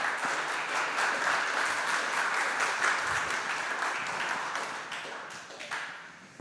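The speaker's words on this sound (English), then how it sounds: "A big applause to Stephen and Kai." Conference audience at the OCX 2024 open source event applauding after a talk, sustained dense clapping from a crowd that gradually thins out toward the end.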